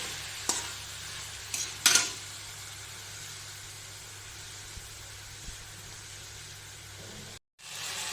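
Dried fish with taro stolons cooking covered over low heat, a quiet steady sizzle with a few sharper stirring clinks near the start and a brief drop to silence near the end.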